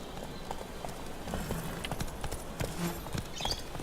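Horse hooves clip-clop steadily at walking pace in the video game The Witcher 3: Wild Hunt, moderately close and fairly soft, with a brief whinny-like note and light background ambience.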